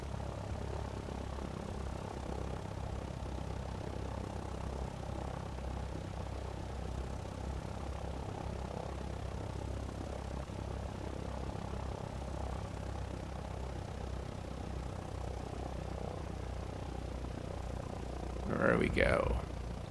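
Steady low propeller drone of a CubCrafters XCUB on landing approach with full flaps in X-Plane 11, continuous and even throughout, ending in a short louder rise near the close.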